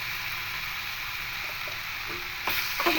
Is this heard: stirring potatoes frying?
yes